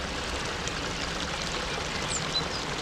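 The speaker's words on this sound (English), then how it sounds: "There's something lovely about running water, isn't there?" Water of a small stream running beside a carp lake, a soft, continuous babbling wash heard close and steady with no voices.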